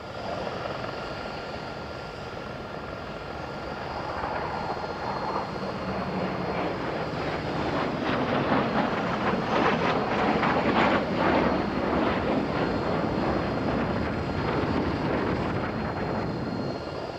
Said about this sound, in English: A Socko Galab and Hawker Hunter were next.